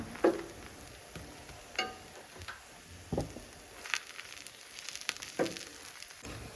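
Dosa batter sizzling softly on a hot pan while tomato chutney is spread over it, with scattered scrapes and light ladle taps against the pan across a steady low frying hiss.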